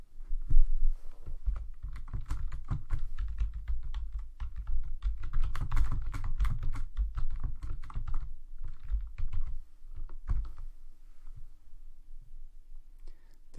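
Typing on a computer keyboard, a steady stream of quiet, close key clicks and taps in uneven bursts with brief pauses, no voices present.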